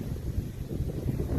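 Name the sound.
wind at the top of a lakeside tower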